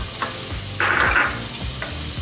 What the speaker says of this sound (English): And now I'm going to add some onions in.